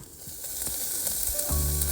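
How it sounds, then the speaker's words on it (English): Steady hiss and crackle of onions and peppers frying in a hot pan at a wild campsite, with a few soft stirring scrapes and a louder sizzle surge near the end. "there's the onions and peppers frying on the go"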